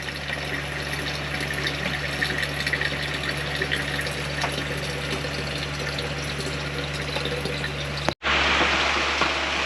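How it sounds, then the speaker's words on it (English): A steady stream of water runs from a SimPure five-stage reverse osmosis filtration system with a built-in booster pump, a constant close rushing flow with a low pump hum beneath, briefly cut off near the end before resuming louder. "But boy, it's got a nice stream for a reverse osmosis system."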